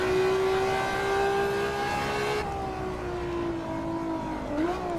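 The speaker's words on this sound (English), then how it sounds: "Really highly strung engine. It's got to rev high to be happy." A Ferrari F50's highly strung engine in Assetto Corsa, a steady high-pitched whine holding its rev, then a sudden lift and a slight dip as the revs settle and the car slows under braking.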